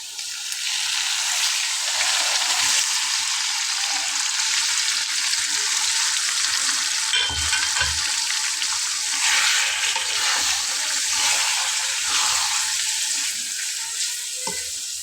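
Beef pieces sizzle loudly in a pan of fried onions for a Bangladeshi beef tehari, a constant crackling fry with a few stirring scrapes and clinks partway through, no one speaking.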